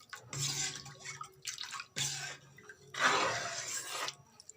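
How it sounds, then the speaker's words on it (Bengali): Water is poured into a wok in a kitchen for making palo pitha, in three separate splashing pours with short pauses between them, close and fairly soft, with no talking. "এবার আমি এই কড়ার মধ্যে জল দিয়ে দেব জল দিয়ে এটাকে ভালোভাবে মিশিয়ে নেব"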